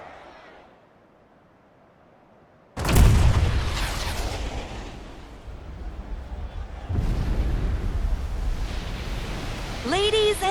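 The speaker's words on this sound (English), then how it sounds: "with a single blast of Junon's famous cannon, Rufus Shinra has announced his arrival" Junon's giant cannon in Final Fantasy VII Rebirth fires with a sudden massive boom that rolls into a long, roaring rumble, then a second swell of blast noise follows, with a voice briefly audible at the start.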